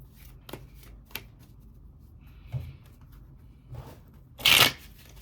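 Tarot cards shuffled by hand in a few soft separate riffles and taps, ending in one louder, crisp burst of cards riffling together, with no talking.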